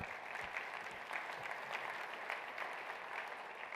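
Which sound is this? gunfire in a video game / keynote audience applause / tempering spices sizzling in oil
keynote audience applause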